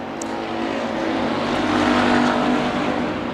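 Sprint race cars in a heat race at Bakersfield Speedway, a loud continuous engine roar from several cars swelling slightly as the field powers through the turns, no voices.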